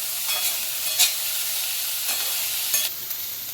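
Onion frying in a pan until reddish-brown for a dry capsicum bhaji, with a steady hiss of sizzling oil and a few scattered scrapes of a spoon stirring it, no talking.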